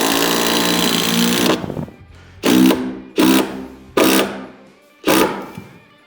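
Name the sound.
drill driving structural screw into Advantech subfloor and joist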